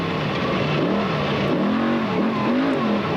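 An old two-wheel-drive desert race truck in a SCORE Baja 500 qualifier, a steady loud engine drone whose pitch rises and dips as it revs while passing close by, with no talk over it.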